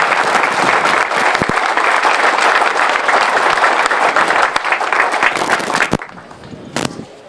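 Crowd at a prison ceremony in Delicias bursts into loud, sustained applause that fills the room for about six seconds, then thins into a few scattered claps.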